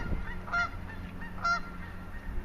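Geese honk in a city park in London, Ontario, where they gather to be fed: two distinct nasal honks about a second apart, moderately near, over a low outdoor background rumble with no talking.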